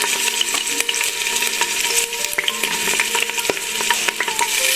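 Green chilies and ginger-garlic paste frying in hot oil for mutton masala, a steady bright sizzle with crackling pops and light clinks of a spoon against the pan throughout, no one speaking.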